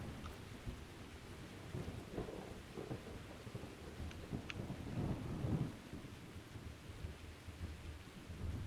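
Heavy rain and rolling thunder from a flight simulator weather enhancement pack, a steady dense downpour with low rumbling swells that build to a peak midway before easing.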